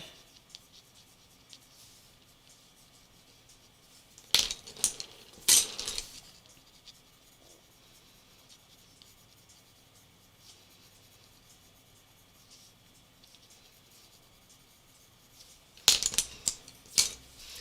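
A colored pencil draws a lily on paper, making soft scratchy strokes in two short bursts separated by a long, near-silent stretch.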